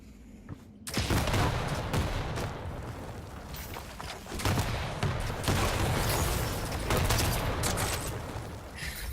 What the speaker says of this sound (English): Rocket explosions everywhere and then that dire orb.